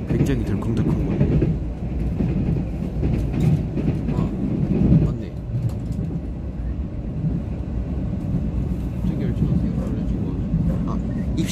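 A Mugunghwa passenger train carriage rattles and clatters over the rails in a continuous deep rumble, with steady jolting knocks running through the whole stretch.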